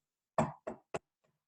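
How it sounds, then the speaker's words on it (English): Three sharp knocks on a door, evenly spaced and fairly close, followed by a faint tap and then silence. "not so loud a knock on the door"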